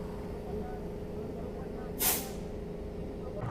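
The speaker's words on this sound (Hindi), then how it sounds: "तो भाई CNG डल गई भाई अपनी गाड़ी के अंदर।" A single sharp hiss of pressurised CNG gas at a petrol pump fuelling station under a flyover, one brief loud burst over a low steady background hum and distant chatter.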